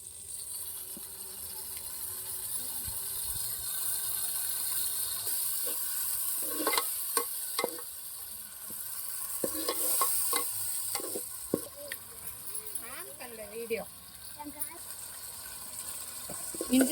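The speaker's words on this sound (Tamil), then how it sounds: "பேஸ்ட் நல்லா வதங்கட்டும்" Ginger garlic paste sautéing in oil for mutton thokku, a soft continuous sizzle with intermittent spoon stirring and scraping strokes against the pan, close and moderately quiet.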